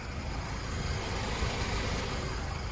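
A BMW Z3 1.9 liter engine runs at a steady idle, a smooth, even hum with a low rumble and no voices.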